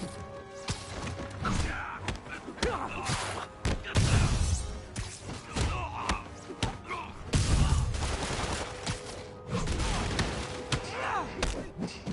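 Bursts of gunfire and heavy thuds from the Spiderman video game, several rapid volleys spread across the stretch, mixed with voices talking.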